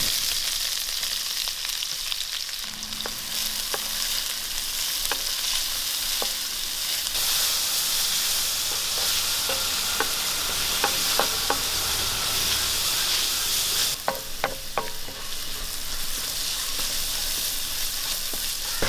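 Sliced onions with mustard seeds sizzle steadily in hot coconut oil in a pan, a loud, even crackling hiss broken by sharp little pops and spits, with no talking.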